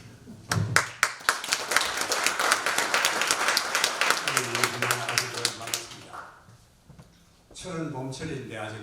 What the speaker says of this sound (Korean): 회장님 나오실 때 큰 박수 부탁드립니다.